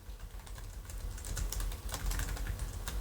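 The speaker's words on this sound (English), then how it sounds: "key sound is going to be minimal because we're dealing with a scissor switch style setup for each key. But there is going to be some click feedback," Fingers type quickly on a ProtoArc XK02 folding Bluetooth keyboard with scissor-switch keys, giving a soft, dense patter of light clicks up close, with no voices.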